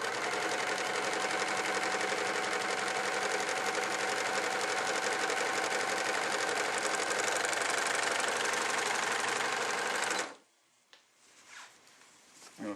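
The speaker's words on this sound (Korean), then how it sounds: "이렇게 오버록을 하였습니다." A Merrylock P2070F/P3080F overlock sewing machine stitches fabric in a loud, fast, continuous mechanical whir for about ten seconds, then stops abruptly, leaving quiet handling noises.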